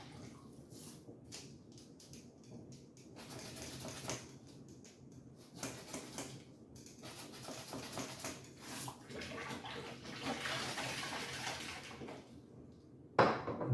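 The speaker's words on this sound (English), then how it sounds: "I'm just giving them a good wash in OxyClean and then rinsing them out." Glass bottles washed in OxyClean solution and rinsed out in water, with steady splashing and sloshing, occasional clinks of bottles and a louder clatter near the end.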